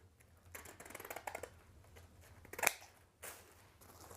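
Scissors snip through decorative ribbon for a Christmas tree bow, making a few quiet, close cuts and one sharp, crisp snip amid light handling rustle.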